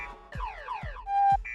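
A car alarm cycles through rapid rising and falling electronic wails and a short steady beep, heard fairly faintly and alone.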